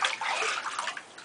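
A rat and a hamster splash about in shallow bath water, giving close, continuous sloshing and dripping in irregular bursts that fade toward the end.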